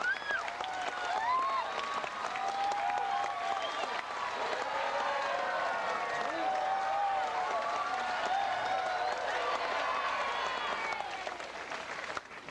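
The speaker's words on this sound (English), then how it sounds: "The more you clap, cheer, scream, and holler, the higher he's going to go." A theme park audience claps, cheers and shouts together in a dense, sustained roar of applause with high whoops and screams, loud and steady from start to finish.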